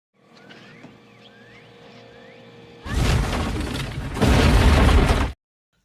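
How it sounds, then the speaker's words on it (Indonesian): In a film scene set on an Amazon river, dynamite blows up a wall: a quiet tonal passage with whistling sweeps gives way to two loud, broad blasts in quick succession, then sudden silence. "Saron dibantu oleh Gary meledakkan tembok itu menggunakan dinamit."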